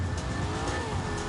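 An Aston Martin Vantage engine in The Grand Tour Game revs hard and steadily, a loud, close, continuous growl with tire noise and no speech.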